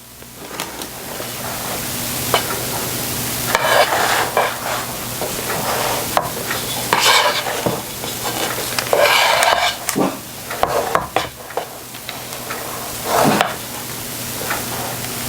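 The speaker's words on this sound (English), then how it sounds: "I'm going to spread the meringue out over my cake batter" Meringue spread with a utensil over cake batter in a pan for a pineapple meringue cake, steady soft scraping and smearing strokes over a constant hiss, with a few sharper clinks, close and fairly loud.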